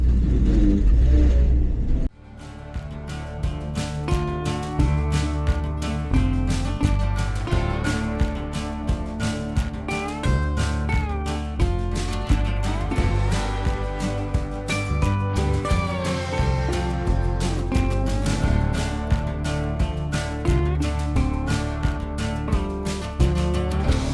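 A 1978 Ford F-700 truck engine while driving, a loud, continuous mechanical roar with rising and falling revs and gear changes heard close from inside the cab for a long stretch.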